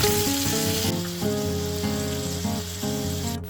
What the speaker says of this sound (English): Let them sizzle gently to infuse the oil.